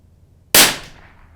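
A single sharp crack from a CZ 457 .22 LR rifle fired outdoors in cold weather, a loud sudden report that decays quickly after a quiet lead-in.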